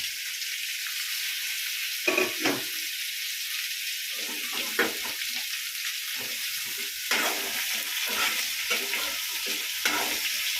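Small whole brinjals fry in hot oil in a pan with a steady, close sizzle, while occasional spoon stirs and clatters against the pan stand out now and then.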